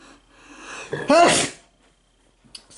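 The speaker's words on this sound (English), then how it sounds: "Sorry, it's just I had to sneeze." A single loud human sneeze, sharp and close, rising out of a quiet stretch of faint background sound, followed by near silence and a few small clicks.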